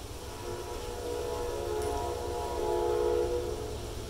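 A loud train rolls past with a deep, steady rumble while its horn sounds a long, droning chord that swells and fades.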